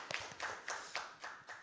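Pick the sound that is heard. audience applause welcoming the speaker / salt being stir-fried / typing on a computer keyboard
audience applause welcoming the speaker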